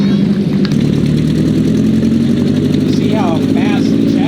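An M24 Chaffee light tank drives past with a loud, steady mid-pitched engine roar and rumble. Someone talks faintly over it.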